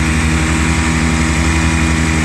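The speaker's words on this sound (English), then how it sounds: "I'll let this motor continue to run for another 6 or 7 minutes probably" A 2-stroke outboard motor runs in gear in a test tank, giving a loud, steady, close buzzing drone with a fast, even pulse.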